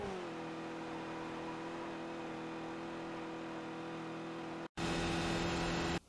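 Skip Barber race car in iRacing at Mount Panorama, Bathurst, engine held at high RPM in fourth gear: a loud, steady high-pitched engine drone, briefly cut by a gearshift, then revving on.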